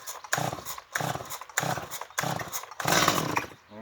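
A small two-stroke chainsaw being drop-started with the chain brake off, its engine roaring in four or five short bursts that cut out between pulls, fairly loud and close.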